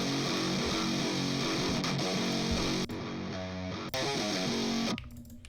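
Synthesized guitar from the Odin 3 plugin, a dense distorted part with rapid shifting notes inside a full mix, loud throughout with brief dropouts before tailing off.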